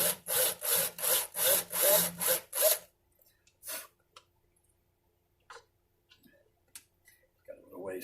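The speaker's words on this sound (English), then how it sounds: "Reamed it very fast, so you just want to hopefully clear out a little bit of the lacquer that's sprayed in here." A reamer cuts lacquer from a banjo tuner hole in about seven fast rhythmic strokes, close and loud, followed by scattered small clicks, taps and a brief rustle.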